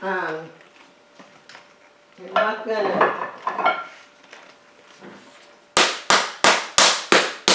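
Hard plastic orchid pots for a Big Lip Phalaenopsis clatter and knock in a rapid run of six sharp, loud hits near the end, after someone talks over faint handling noise.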